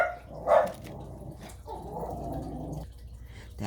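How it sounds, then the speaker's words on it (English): A dog barks sharply once, loud and close, then keeps grumbling and growling at a lower level through the rest of the moment, with no talk over it. "That was my dog going off."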